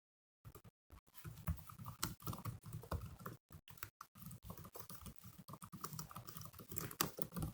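Someone types on a computer keyboard at a desk, keys clicking rapidly in an uneven patter through most of the clip. The clatter is close but quiet, with brief pauses, and nobody speaks.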